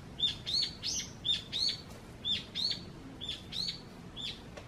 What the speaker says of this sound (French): On entend des oiseaux.